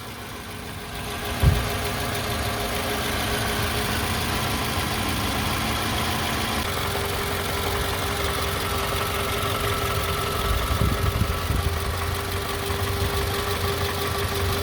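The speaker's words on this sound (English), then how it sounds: "We're going to idle her for 15 minutes." A 2006 Toyota RAV4 engine idles steadily before an engine flush and oil change, a continuous loud rumble that holds even throughout, with a single brief knock near the start and no voices.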